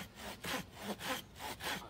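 Hand saw cutting through wood in a steady back-and-forth rhythm, about six rasping strokes, close and clear with no talking.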